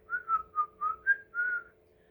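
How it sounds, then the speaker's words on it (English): A man whistles a short, merry tune of five quick separate notes and then one longer held note, clear and fairly close against a quiet background. "Then one afternoon, Pa came merrily whistling up the creek road."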